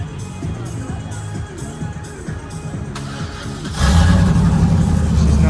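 A truck fitted with a Flowmaster Super 44 exhaust idles with a low, throbbing rumble at a car show, then revs sharply into a louder, sustained roar for the last couple of seconds, with faint crowd noise around it.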